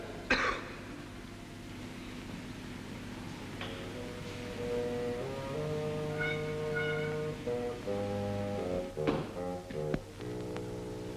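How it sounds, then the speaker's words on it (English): A single sharp cough stands out early, followed by a sustained musical score with strings and horns swelling underneath. "Cough."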